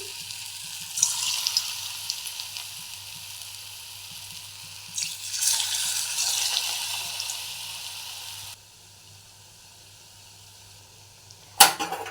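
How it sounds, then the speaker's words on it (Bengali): Radish fritters mixed with sugar, rice flour and salt fry in hot oil with a steady, hissing sizzle that swells midway, then drops away to near quiet before a short sharp clatter; no one speaks. "তেলটা গরম হয়ে গেছে এবারে আমি চিনি মেশানো মূলো ফুলুরিটা আগে ভাজছি দেখুন"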